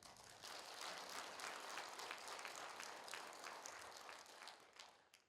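Audience applause at a lecture during the Sobaek cultural festival in Yeongju: dense, sustained crowd clapping for about five seconds that holds steady and then tapers off.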